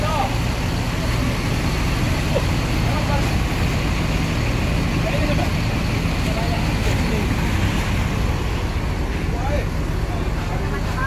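A car edging out past buses in a cramped, busy bus station, a constant rumble of idling engines and traffic noise with occasional clanks, while people talk nearby.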